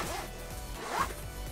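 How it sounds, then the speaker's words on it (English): A small zipper on the back of a camera bag is pulled open, a short close rasping zip under quiet room tone. "On the back side, you have another zipper, small zipper"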